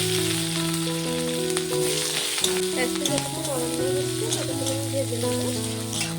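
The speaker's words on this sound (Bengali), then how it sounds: "পেঁয়াজ লঙ্কাটাকে ভাজতে ভাজতে দিয়ে দেবো" Chopped onion and green chili fry in oil with panch phoron spices, giving a constant crackling sizzle under a steady background hum, with a few stirring sounds.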